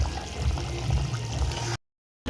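Fox nuts (makhana) tumble into a simmering karku fish curry gravy with a short, wet, pouring splash, close and fairly loud, then a sudden cut to silence before the sound briefly returns.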